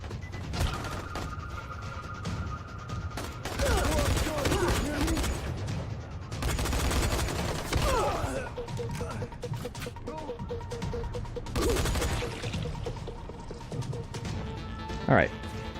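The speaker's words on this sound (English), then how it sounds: "They all have guns and they're all just shooting the hell out of me." Gunfire from enemies in the Dying Light: The Following video game: sustained bursts of shots that swell and fade under a steady game soundscape, with one sharp loud crack near the end.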